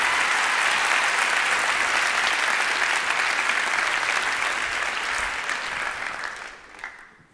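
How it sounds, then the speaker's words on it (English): An audience at a pickpocket's stage show breaks into a big round of applause, dense and sustained clapping that stays loud before tapering off quickly at the end. "along with a big round of applause from all your friends."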